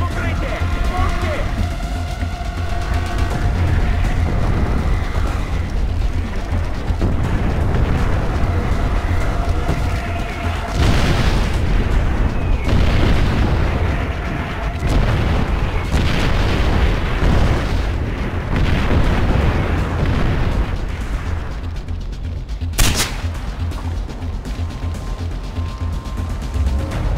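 In the Far Cry 4 video game, cannon artillery fire pounds the area with loud, booming explosions rolling one after another over a continuous rumbling din, and characters shout over the barrage.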